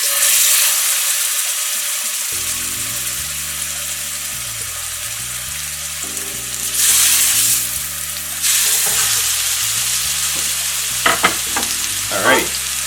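Chicken frying in olive oil in a pan over medium heat, a steady sizzle that swells louder in places, with a low hum beneath it and a few clinks and rustles near the end.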